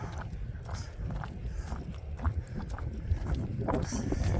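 Strong wind gusts outdoors during a rainy-season dog walk, a steady broad rushing roar with buffeting bursts across the microphone, with faint footsteps and speech underneath.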